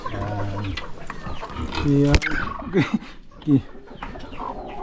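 Hen under shade clucking close by, a few short throaty clucks and a higher squawk between bits of talk and outdoor background noise.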